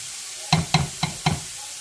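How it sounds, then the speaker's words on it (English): Vegetables sautéing in a pan for jambalaya, heard as four quick, evenly spaced scrapes or knocks of a utensil against the pan, close, over a soft background hiss. "I'll let that saute for a few minutes until it's tender,"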